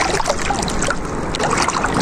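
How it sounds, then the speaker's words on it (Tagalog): Strong waves on a river slap and churn against a small boat in a continuous broadband wash, loud and close, with no voices. "Malakas alon dito eh"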